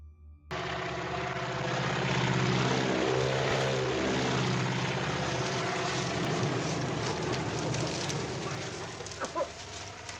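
Propeller crop duster airplane from the 1959 film North by Northwest, its engine droning loud and continuous as it passes close overhead, with a rising and falling tone and light background sounds.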